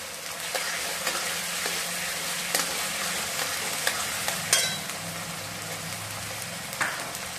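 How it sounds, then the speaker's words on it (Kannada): Small pieces of potato fry in hot oil for sabudana khichdi, a dense steady sizzle broken by occasional scraping stirs and soft clicks of a utensil in the pan. "ಇದು ಚಂದ ಎಣ್ಣೆಗ ಬಟಾಟಿ ಫ್ರೈ ಆಗಬೇಕು."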